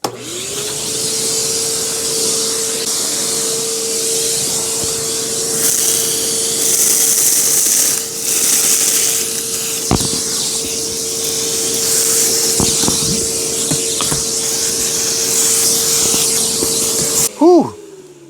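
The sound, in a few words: Dewalt 9 gallon shop vacuum running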